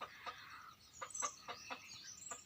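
Rooster sitting in a cage, giving a quick series of short, faint clucks in a quiet setting, with no talk.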